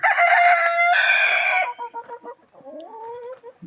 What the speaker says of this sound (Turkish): Başka bir horozumuz.